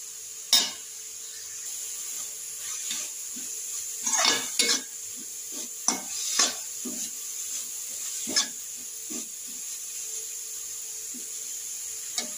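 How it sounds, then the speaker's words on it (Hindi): Grated carrots for carrot kheer are stirred and roasted in a pan, a soft continuous sizzle broken by irregular scraping and clinks of a spoon against metal, close and alone without talk. "इसको चला चला के हम 4 से 5 मिनट भूनेंगे ताकि"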